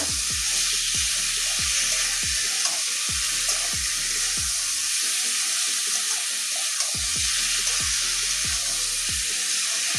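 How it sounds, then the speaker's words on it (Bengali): Kochur loti (taro stolons) sautéing with spices in a pan, a constant bright sizzle over a repeating mechanical low thumping pattern, steady and close with no voices. "এবারে ভালো করে কষিয়ে নেব। মশলার সঙ্গে ভালো করে মিশিয়ে নেব।"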